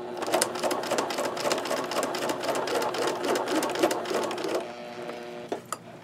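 A sewing machine stitching a canvas journal cover runs in a fast, steady rhythmic chatter for several seconds, then slows and stops, followed by a couple of soft clicks; close and clear with no talk.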